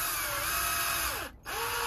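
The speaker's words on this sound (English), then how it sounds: "I took a 3/16 drill bit and what I'm going to do is drill it right down the middle of the plug" A 3/16 drill bit boring down the middle of a plug aboard a boat, a steady high whine with pitch shifting as the load changes, briefly stopping then starting again.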